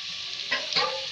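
Chopped onion dropped into half a spoon of hot ghee in a pan, giving a brief bright sizzle that flares twice in quick succession over a steady frying hiss.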